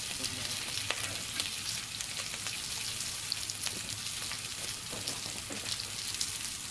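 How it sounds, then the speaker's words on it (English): Pork stew sauce sizzles and crackles steadily in a disco wok, a dense continuous frying hiss with small pops close by, with no talk. "We're going to put some of that sauce in there."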